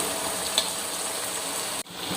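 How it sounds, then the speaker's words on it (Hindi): Peas fry in a pot of onion, tomato, green chili, salt and garlic-ginger paste in a village kitchen, giving a steady loud close sizzle with a brief clink and a sudden short dip near the end. "इसके बाद मटर डाल देंगे।"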